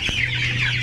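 Broiler chickens cluck steadily inside a crowded coop, a close, continuous flock sound throughout.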